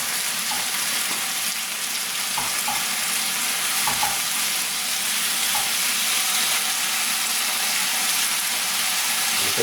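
Chicken pieces frying in a pan for a fricassee, a steady, dense sizzle and crackle of hot fat with a few faint clinks, continuing evenly throughout.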